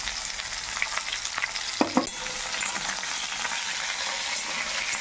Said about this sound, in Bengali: আলুটা একটু প্রথমে আমি ভেজে নেব।